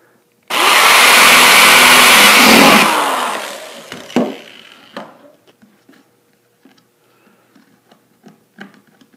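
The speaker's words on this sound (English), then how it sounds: "I'm going to drill a hole about the same level." Power drill boring a hole through a plastic bucket for a vegetable garden container, a loud whirring burst of about two seconds winding down, followed by scattered clicks and plastic clatter.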